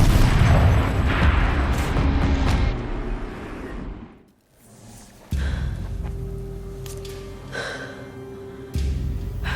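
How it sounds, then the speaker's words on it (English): A heavy turret in Horizon Zero Dawn fires loud, booming shots with rumbling impacts, drops to near silence for a moment, then comes back with another sharp blast and continued rumbling. "Rotate turret! And fire!"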